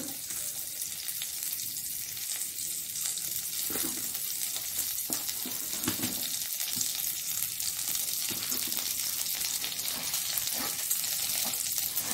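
Mangalore-style oggarane tempering for beaten rice idli crackles in a pan as a loud, continuous close sizzle, broken by intermittent spatula stirring and scraping throughout, with no talking.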